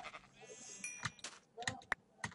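Sheep bleat faintly in short, scattered calls, heard alone with a few sharp clicks between them.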